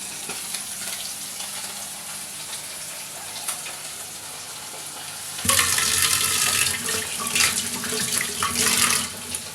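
Fish fries in Fortune refined oil with a low sizzle that suddenly jumps into loud, dense spattering and crackling halfway through, close and continuous without speech.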